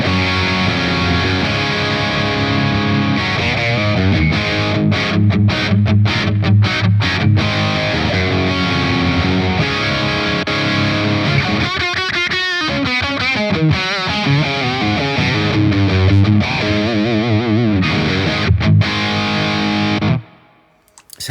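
Distorted electric guitar played through a Victory V4 Kraken amp with the mids slightly boosted, loud, continuous chugging riffs and sustained chords for about twenty seconds, then cutting off abruptly at the end, with no voice.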